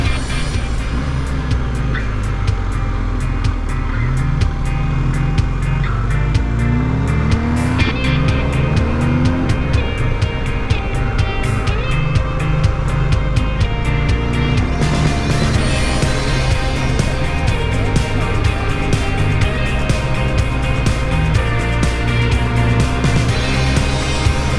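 A triple-black BMW R1250GS motorcycle engine runs steadily and loudly throughout, a dense continuous drone with shifting tone and a slight change partway through, no speech.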